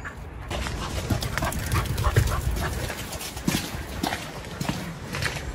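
A dog dashes around outside a camper van on a rainy campsite, paws pattering in quick, irregular bursts over steady rain noise, with occasional faint whimpers and movement close by.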